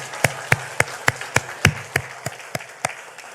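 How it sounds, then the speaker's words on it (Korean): A church congregation stands and claps in unison for a newlywed groom at a Sunday service, about a dozen sharp, evenly spaced claps ringing through the hall with no talk. "우리 잠깐 일어설 때 박수로 축하하고 격려해 주시기 바랍니다."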